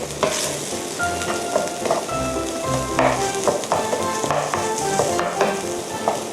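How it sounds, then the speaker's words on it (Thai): Canned tuna being mashed into small pieces in a pan, with a steady sizzle and frequent scraping and tapping from the utensil throughout. "ทีนี้เราก็เติมปลาทูน่าค่ะ ปลาทูน่าเราจะ ขยี้ขยี้ให้ ชิ้นเล็กนิดนึงนะคะ"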